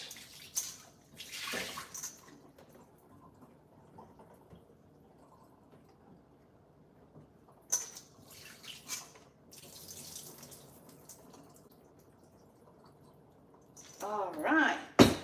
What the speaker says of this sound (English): let me wash these now and get them cut up to make my ackee and saltfish